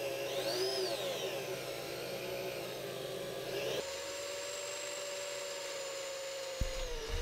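A high-pitched electric drill whines steadily while drilling holes aboard an anchored sailboat, its pitch shifting partway through, then cuts off abruptly near the end with a short clunk.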